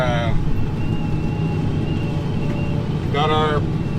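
A Fendt 1050 tractor with a disc hooked up, its engine a loud, steady low rumble heard from inside the cab, with a brief rising whine in places and a person talking over it.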